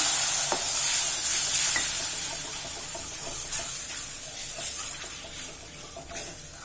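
Pasta ingredients fry in hot oil in a pan and get stirred, producing a steady close sizzle with scattered scraping taps of the spoon and no voices.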